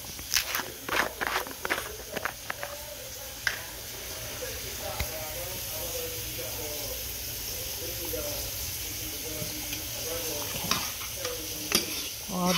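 A chicken and mushroom mixture sizzles in a pan while a utensil scrapes and clacks through it in irregular bursts, loud at first and then easing into a softer steady fry with occasional knocks.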